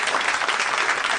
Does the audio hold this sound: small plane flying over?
no